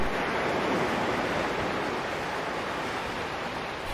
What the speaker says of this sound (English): Seawater crashes on the shore in the form of waves.